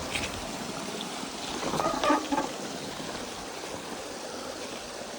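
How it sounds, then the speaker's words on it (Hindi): A stream of water flows across an off-road trail near CRPF Ajmer with a steady, broadband rushing and trickling. It sounds close and moderately loud, with a brief louder splash partway through. "यहाँ पानी की स्पीड थोड़ी ठीक ठाक है"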